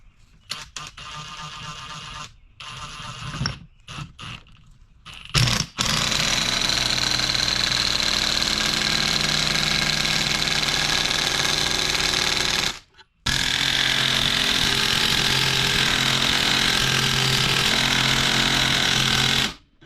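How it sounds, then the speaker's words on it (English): Impact wrench pulling a Jeep Dana 44 axle bearing with a clam shell bearing puller, a loud continuous close rattling hammer whir running in long bursts after some preparatory clicks and handling noise. "And now you can use an impact wrench to pull the bearing out."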